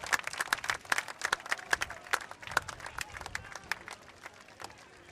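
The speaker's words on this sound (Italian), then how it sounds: "Ecco, sentite l'applauso del pubblico." An outdoor audience at a Sardinian historical battle re-enactment claps in a dense, crackling burst of applause that thins out gradually toward the end, with some crowd murmur underneath.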